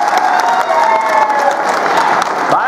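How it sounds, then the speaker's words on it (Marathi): A crowd at a political thanksgiving rally claps loudly and steadily throughout, a dense, continuous wash of applause close at hand, with faint cheers mixed in. "हिच्याकरता टाळ्या वाजवा यार."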